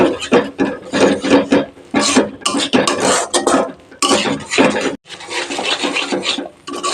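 A spoon scraping and stirring a cashew-paste gravy with kasuri methi in a pan for navratan korma, in repeated rhythmic bursts of gritty rubbing and metal clatter, close and fairly loud with brief pauses.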